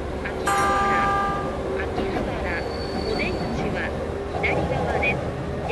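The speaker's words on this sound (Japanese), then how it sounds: "この電車は中央総武線各駅停車、千葉行きです。" A Chuo-Sobu Line local train runs in the Densha de GO! video game, steady rolling rail noise with a brief squeal. Train announcements and a voice are heard over it.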